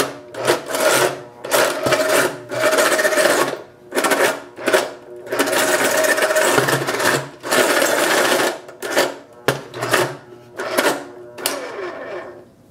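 An electric pencil sharpener motor grinds on an Apple Pencil in repeated loud bursts, whirring on and off in short pulses with brief silences between, close and alone.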